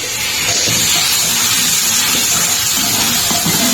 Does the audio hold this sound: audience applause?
no